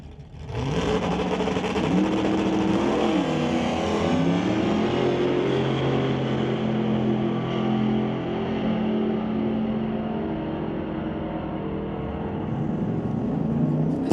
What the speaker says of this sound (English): Bring up Chris Stone, racing the Stone Cold Racing Dodge Dart down at 10:03.